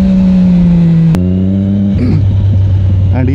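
A Triumph Daytona superbike engine running loud and close, its steady drone dropping in pitch midway, then wavering and rising slightly as the throttle is worked.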